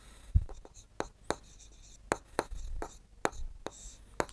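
Marker or chalk strokes on a classroom board during a Class 7 maths lesson on fractions, a steady series of short scratchy taps and squeaks, fairly close, with a teacher's voice speaking intermittently between them.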